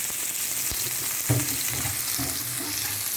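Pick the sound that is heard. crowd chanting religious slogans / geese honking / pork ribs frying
pork ribs frying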